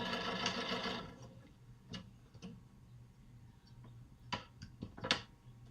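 Sewing machine stitching a quilt block, with a dense whirring burst in the first second and then several short, sharp stitching bursts scattered over a quiet background.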